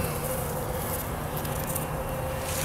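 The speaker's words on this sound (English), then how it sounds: "this is part two of the pollen feeder. And as you can see, the bees are using it." Bees at a dry pollen feeder make a soft, continuous buzzing hum at steady, fairly faint level, with no voices.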